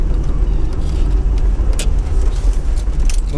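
A 1978 Pontiac Firebird accelerates gently, its engine giving a steady low rumble with road and cabin noise over a few seconds, fairly loud and with no talking.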